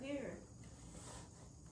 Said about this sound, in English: It's so crickets. It's crickets.